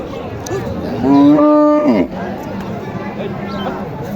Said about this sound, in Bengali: এখানে একটা গরু দেখেন